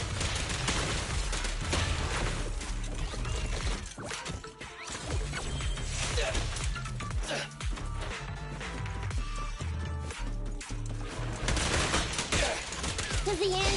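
Gunfire in Zenless Zone Zero, with rapid bursts of shots, crashes and impacts layered over game music and effects, loud and dense throughout and pausing only briefly.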